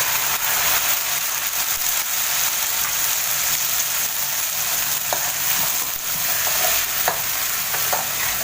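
Okra sizzles and fries in a pan while being stirred, a steady bright crackle with occasional scraping stirs and clinks, close and loud with no talk.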